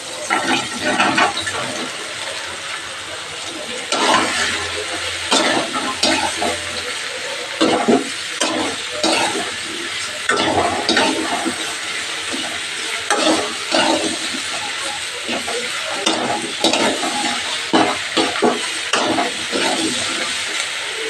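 Prawns and ol (elephant foot yam) stems fry in a pan, giving a steady sizzle broken by bursts of stirring and scraping that run through the whole stretch, close and fairly loud, with no talking.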